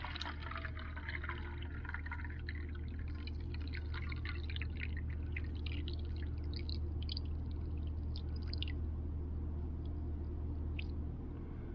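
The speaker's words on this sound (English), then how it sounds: "I'm going to pour water into this coffee cup." Water poured into a coffee cup during a lab demonstration on the unusual properties of water, a steady close trickle and splash lasting several seconds over a constant low hum, with no talking.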